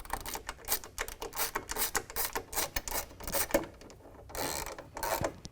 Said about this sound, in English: we're going to tighten everything down with a 1/2 inch wrench or ratchet